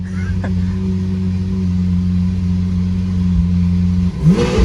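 A Lamborghini Aventador heard from inside the cabin while driving, its engine a loud, steady drone that holds throughout, with a brief rising rush near the end and no talking.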